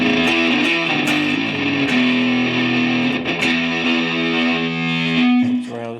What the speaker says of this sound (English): So if you want to make that as dirty as possible, we can turn that distortion up.